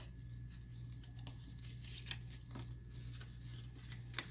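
Paper is folded for a handmade stamped mini book, soft rustles and crisp creasing swishes recurring over a low steady hum, quiet and close.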